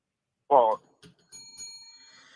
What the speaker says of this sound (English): My bell going to break by the end.